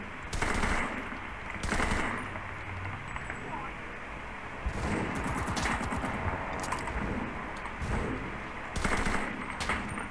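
Bursts of rapid machine gun fire in the video game Enlisted, several short volleys with gaps between them, moderately loud.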